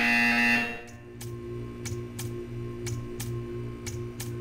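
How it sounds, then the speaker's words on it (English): Buzzer from the video game Portal: a low steady electronic buzz pulsing evenly, with sharp regular ticking clicks about every two-thirds of a second, after a brief tonal sound at the start. "You will hear a buzzer."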